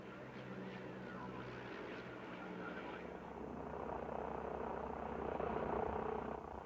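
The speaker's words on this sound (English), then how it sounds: "the DH-87 Hornet Moth, a two-seater touring biplane built in" A de Havilland DH-87 Hornet Moth, a 1937 two-seat touring biplane, at an Australian air show: a faint, distant, steady engine drone that slowly swells a little, with possible narration underneath.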